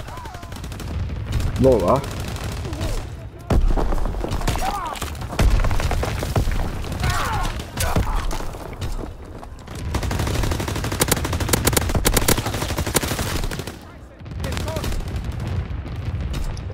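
Flak guns in Call of Duty WW2 fire in heavy, sustained bursts of booming and rattling gunfire, loud and dense, with a brief voice speaking amid the barrage.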